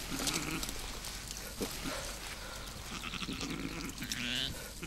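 A sheep bleats several times up close, short wavering calls over a busy background of rustling and handling noise, with no one talking.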